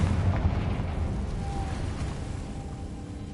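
A booming blast from the Confringo explosion spell in the video game Hogwarts Legacy, followed by a low rumbling roar that slowly fades. No one speaks.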